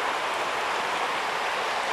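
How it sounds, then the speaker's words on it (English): A constant broadband rush of a river flowing in the Cairngorms, steady and fairly close, with no voices or breaks. "as the river flows down"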